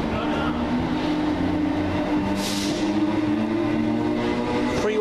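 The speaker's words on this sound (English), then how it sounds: "the next train out, the 1719 Govia Thameslink service from Sutton to" A Govia Thameslink Class 319 electric train, unit 319457, on the 17:19 service from Sutton to St Albans City, pulls out of Farringdon station with a steady, loud rumble and a bright metallic hiss swelling midway.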